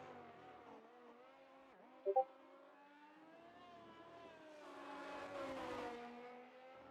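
A race car in a racing video game at Imola, its engine droning faintly through the gears with rising and falling pitch, a brief sharp blip midway and a louder, rougher surge near the end, with no voices.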